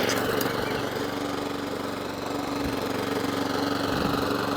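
A Suffolk Punch Atco Allett lawn mower with a Kawasaki FJ100 engine idles steadily nearby, a loud, even, chugging drone with a rough low throb and no break.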